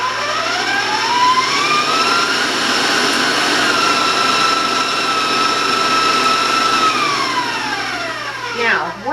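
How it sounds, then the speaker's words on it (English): An electric mixer whirs steadily and loudly, its motor pitch rising and then holding, before winding down at the end. "we're just going to turn the mixer on"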